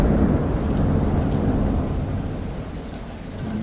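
A recorded thunderstorm plays back, deep rolling thunder over a steady wash of heavy rain, loud and continuous with no voices.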